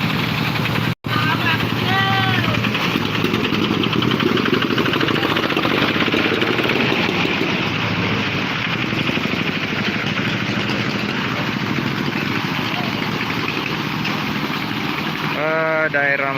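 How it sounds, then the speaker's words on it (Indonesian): A tractor engine drones steadily while it pulls a carriage carrying motorcyclists through floodwater in Soppeng, South Sulawesi, a loud continuous rumble with voices heard over it. "mesin traktor."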